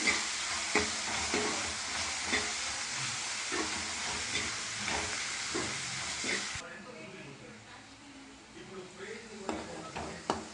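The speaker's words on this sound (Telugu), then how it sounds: "చూడండి, ఇంకా ఉల్లిపాయలు పచ్చిమిరపకాయలు బాగా దోరగా వేయించుకోవాలండి" Onions and green chillies fry in a pan with loud, steady sizzling and hiss, punctuated by stirring scrapes. The sizzle drops sharply partway through and quieter frying continues under occasional speech.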